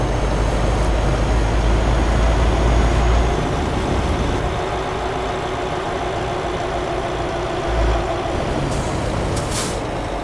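A bus in the Euro Truck Simulator 2 video game rumbles off road, its engine droning loudly and steadily with deep low-end thumps and a brief hiss near the end.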